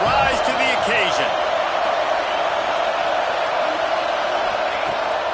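College football stadium crowd roaring on fourth down, a dense, sustained wash of cheering with a commentator talking over it.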